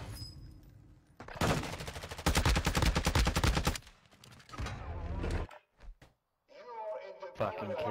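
Gunfire in a ranked shooter game, bursts of rapid automatic fire in several loud runs separated by short gaps, with a player talking between and over the shots.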